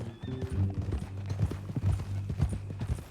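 A horse's hooves clip-clop in a steady walking rhythm in the Red Dead Redemption II video game, close and distinct over a low background hum.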